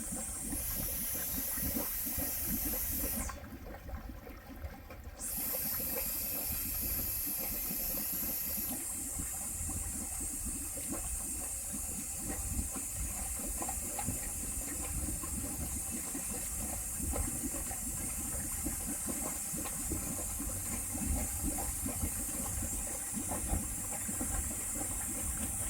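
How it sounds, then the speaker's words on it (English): Underwater, the rear ballast tank of a small lionfish-hunting submarine bubbles out during a test dive, a continuous dense hiss and gurgle of escaping air that fills the whole stretch, close and steady. "Back tank's bubbling out the back."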